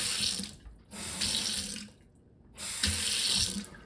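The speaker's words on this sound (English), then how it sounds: "Let's get that water turned back on." A Delta single handle kitchen faucet runs water into the sink in three bursts, a loud hissing stream switching on and off with short pauses between.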